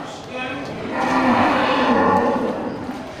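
Cattle at a livestock market in Geurugok, Indonesia, the week before Maulid Nabi, low drawn-out moo swelling loud in the middle and trailing off, up close over faint crowd murmur.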